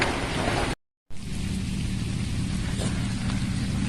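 Steady rain pours down over a rice field at harvest time, a dense continuous hiss with low rumbling beneath, briefly cut to silence near the start before resuming at the same loud, even level.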